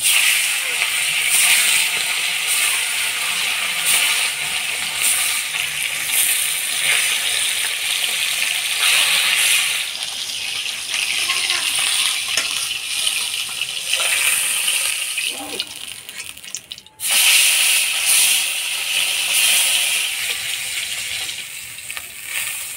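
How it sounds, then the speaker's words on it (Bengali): Fish pieces for a rohu fish curry frying in hot oil over a wood-fired stove, a loud continuous close sizzle and crackle that fills the whole stretch, briefly dipping once near the end. "এবার মাছগুলা ভাজি নিব।"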